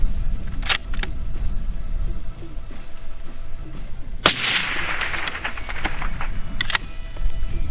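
Suppressed .30 caliber rifle shots through a Gemtech Tracker suppressor: a sharp crack with a lingering rolling echo after it, plus several fainter clicks and impacts before and after, outdoors with no talking.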